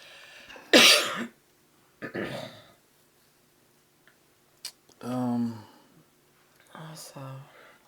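Several separate coughs and throat-clearing sounds, close and fairly loud, spaced out with quiet pauses between them.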